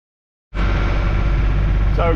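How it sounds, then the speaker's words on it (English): Sailing boat engine starting up abruptly after silence, then running at a steady, loud, low drone, with a brief bit of talk near the end. "So we've got a bit of engine power."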